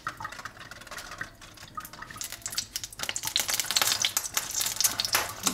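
Tap water splashes and pours over fish being rinsed before frying in an outdoor kitchen in Pattaya, an irregular stream of drips and splatters that grows louder and busier toward the end, with no voices.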